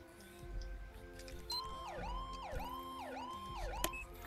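A synthetic video game emergency vehicle siren, responding code 3, wails in repeated rising and falling sweeps, loud and close, with a sharp yelp tone near the end.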